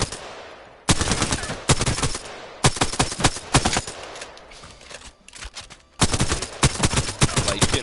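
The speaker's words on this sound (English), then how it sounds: "Alternator. One of the actually my favorite SMG in the game." Alternator SMG in Apex Legends firing loud, close bursts of rapid automatic shots, several sustained strings separated by short pauses, with no voices.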